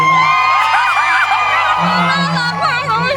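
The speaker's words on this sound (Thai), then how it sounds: "ขอเสียงกรี๊ดให้น้องเวลากับวารีด้วย" Loud crowd whooping and cheering at a Kiehl's promotional event in a shopping mall, shrill voices rising and falling throughout, dense and close, with no clear pauses.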